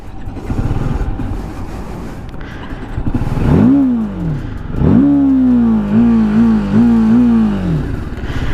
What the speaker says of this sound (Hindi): सबसे पहले स्टार्ट करते हैं और बाइक की साउंड सुनाता हूँ।